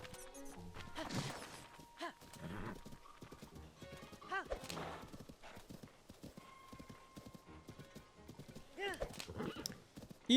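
Horse hooves clip-clop steadily on the ground in The Legend of Zelda: Tears of the Kingdom, with occasional neighs and game chimes, while a player talks over them.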